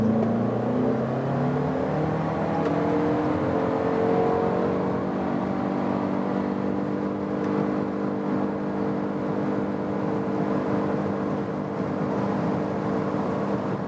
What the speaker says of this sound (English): we want to show you one more time acceleration when we go to a higher speed as well